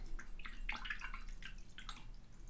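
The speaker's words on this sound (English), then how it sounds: "Rinse it in water." A watercolor brush being rinsed in a water container, soft quiet swishing and light dripping splashes in short bursts, close and faint.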